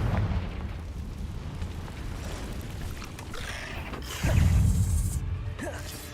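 Confringo and Bombarda spell explosions in the Hogwarts Legacy video game rumble and crack amid steady game noise, with a heavier, louder boom swelling up near the end of the short stretch.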